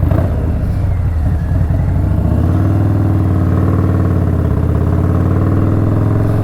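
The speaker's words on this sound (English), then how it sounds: "Yeah, they'll hear you coming on this bike." A Stage II Harley-Davidson Softail Street Bob with FXR fairings rumbles along at close range, its loud, deep V-twin drone holding steady with a shift in pitch partway through, and no one talks over it.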